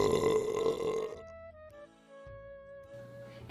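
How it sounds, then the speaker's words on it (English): A wolf's satisfied burp as a storybook sound effect, a loud, close, drawn-out belch with a tonal, groaning quality lasting a few seconds. "The wolf let out a satisfied burp."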